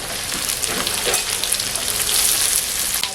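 Onions hiss and sizzle as they hit hot frying oil with green chillies, a steady, bright crackle of frying with scattered sharper pops, close and fairly loud.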